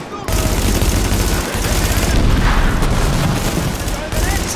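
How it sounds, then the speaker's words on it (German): Dense, continuous gunfire and booming blasts from a shooter game, The Division, roaring loud and close for several seconds with little letup. "Oh, unser Dings wird beschossen."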